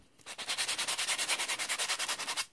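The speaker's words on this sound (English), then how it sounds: "Just giving it a very light sand over the top to bring out that core colour." Rapid, even back-and-forth scratching strokes of a sanding block rubbing over card, about twenty quick rasps in a steady rhythm, close up.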